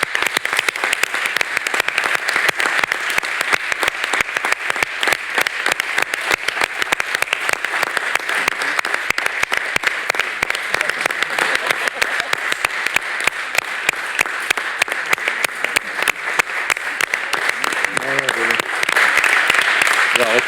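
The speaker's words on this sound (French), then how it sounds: "Et j'aimerais qu'on applaudisse Mathieu Charton." Steady audience applause fills a departmental council public session for about twenty seconds, dense clapping throughout, with brief talk rising under it near the end.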